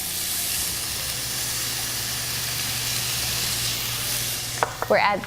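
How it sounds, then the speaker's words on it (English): Yellow onion frying in warm oil, a steady close sizzle and hiss filling the stretch, with a few stirring scrapes and clatters near the end. "once your oil is nice and warm, we're going to go ahead and add our yellow onion"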